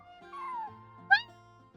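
A cartoon cat character meows once, a short bright rising-falling call, over a quiet game backdrop with soft tonal hums; no talk.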